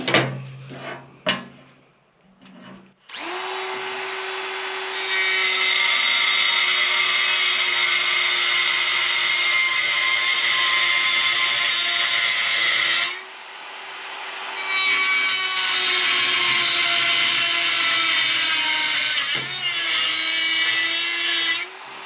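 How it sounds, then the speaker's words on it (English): A Dremel with a cutoff wheel slices through folded metal on an air cleaner baffle, a loud, steady, high-pitched grinding whine held for long stretches. It starts after a few short taps and stops briefly midway. "cutting where all the folds are with a Dremel and a cutoff wheel"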